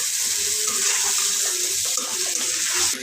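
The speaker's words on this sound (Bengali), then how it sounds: "আলুগুলো যেহেতু ভাজা, জলটা এখনই দিয়ে দিব আমি।" Pre-heated water pours steadily into a pot of fried potatoes and browned meat, a loud continuous splashing rush with no talk.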